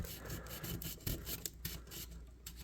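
Sandpaper rubbed back and forth over a rusty vintage pen knife, a quiet, close rasping in quick repeated strokes with no talking.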